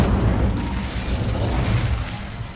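A Confringo spell blast in Hogwarts Legacy, a dense, rumbling explosive roar that stays loud and sustained for a couple of seconds, then gradually thins out, with no voices.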